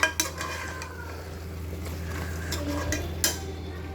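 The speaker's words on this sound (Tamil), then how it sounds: "இந்த இடத்துல அடி பிடிக்க விடாமல் இந்த மசாலாவை நல்லா வதக்கும்" Masala is stirred and sautéed in a pan with oil, a steady sizzle under repeated scraping and clinking of a metal spoon against the pan, close and clear with no talk.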